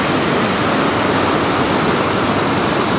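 Fast river water rushing loudly near the hot springs at Manikaran, a dense, constant roar close by with no talking.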